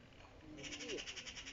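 An agitated magpie gives a harsh, rapid rattling chatter outdoors, a quick series of scratchy pulses that starts partway through, with a faint voice underneath.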